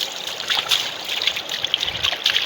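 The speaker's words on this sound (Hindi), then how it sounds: "इंजन पे थोड़ा पानी मारेंगे" Water sprayed onto a dismantled Honda CG 125 motorcycle engine during cleaning, a continuous hissing, splashing spray with fluctuating bursts, close and moderately loud, with no talking.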